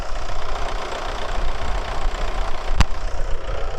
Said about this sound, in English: that rattling noise you may be able to hear